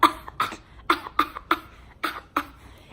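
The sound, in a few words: imitated fake cough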